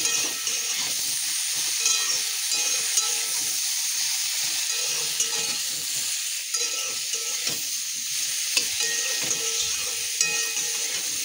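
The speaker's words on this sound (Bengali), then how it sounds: "মশলাগুলো জাস্ট আমি ভেজে নিচ্ছি।" Ginger, mustard seeds and poppy seeds frying in oil for a Bengali shukto, a steady close hissing sizzle with occasional soft stirring clicks, continuous and without speech.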